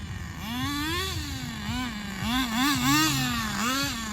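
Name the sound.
nitro RC car engine (Thunder Tiger TS-4n, 4Tec Pro .15) running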